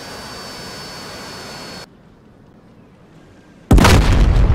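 A pair of 1,000-pound laser-guided bombs from a Harrier in the DCS combat flight game exploding on a bridge, a sudden loud broadband blast that cuts in after engine noise drops away and keeps roaring to the end.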